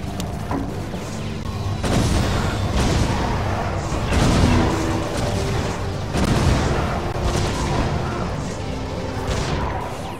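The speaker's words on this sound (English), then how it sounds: "I love the sound of cannons in the morning." Cannon towers fire in the tower-defense video game Defense Grid, heavy booming blasts overlapping continuously with crashing impacts, loud and dense throughout.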